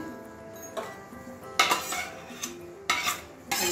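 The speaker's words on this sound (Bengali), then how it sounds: "ঝোল ফুটে গেছে, এবারে পটলগুলো দিয়ে দেবো। সবগুলো পটল একসঙ্গে ঢেলে দিচ্ছি।" Pointed gourds tipped into bubbling gravy in a pot, with several metallic clinks and stirring knocks of a spoon against the vessel, close and without talking.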